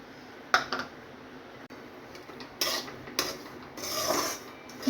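Semolina (rava) being roasted in hot ghee in a pan over low to medium flame, heard as a soft gritty scraping and rasping of a spoon stirring the grains, in several short strokes with quiet pauses between.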